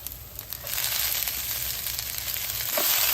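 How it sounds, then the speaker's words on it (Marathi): Mint, garlic, ginger and onion sauté in hot oil for spicy mint rice, giving a loud, dense, close sizzle that swells early and holds steady, with a couple of faint stirring knocks. "आता हे सगळं छान तेलामध्ये परतून घेऊया"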